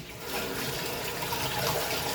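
Steady running water from a tap splashing continuously, as if something is being rinsed underneath, with no voices.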